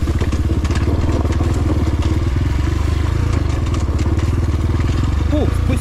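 A Rottor Titan 250 motorcycle, a 250cc bike rated at 17 horsepower, is ridden with a steady, throbbing engine drone held close and loud throughout, with rattling clatter over it.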